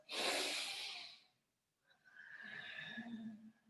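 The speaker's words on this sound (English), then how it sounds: "drawing the breath in through the nose, pushing the breath out of the nose" Slow nasal breathing during a yoga session: a soft inhale through the nose followed by a pause, then a longer exhale out through the nose, faint and close with no talking.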